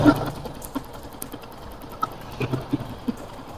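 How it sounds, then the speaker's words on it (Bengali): A faulty motorcycle engine with an uneven throttle idles quietly and low, with a rough rattling, grinding churn and scattered small ticks and knocks over the steady hum. "ইঞ্জিনের থেকে ঘর ঘর ঘর একটি শব্দ করতেছে"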